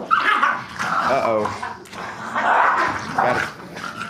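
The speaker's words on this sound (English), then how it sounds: "got a puppy fight going on" Puppies yip and bark in a scrappy play fight, high excited barks and whimpers overlapping a person talking nearby.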